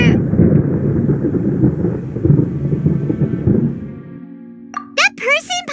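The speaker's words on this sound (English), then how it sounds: "Paimon hears thunder!" Thunder in Genshin Impact rolls as a deep, loud rumble for about four seconds, then fades as a character's voice begins.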